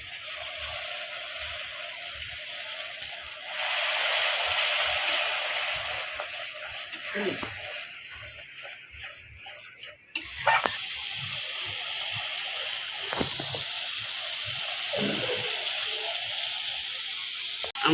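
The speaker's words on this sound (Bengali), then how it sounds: "মশলাটা ভালো করে মিলাই ভাজতে হবে" Spice masala with Kashmiri chilli and tomato paste frying in a pan, a steady sizzling hiss that runs throughout, swelling louder for a few seconds early on, with occasional clinks and stirring knocks.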